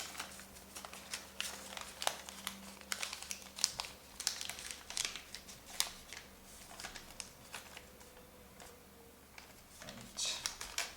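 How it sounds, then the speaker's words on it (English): Paper is folded by hand into an origami swan, making a belly fold, with quiet close crinkles, creases and taps in irregular bursts throughout, with no talking. "make a belly fold along this line here"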